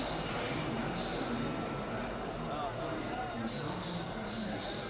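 A train rumbles steadily at a station platform during Hajj, with continuous wheel and rail noise and faint squealing, while distant voices murmur in the background.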